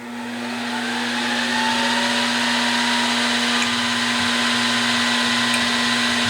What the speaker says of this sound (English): So very light pressure at first until you get it started, and then you can drill the hole.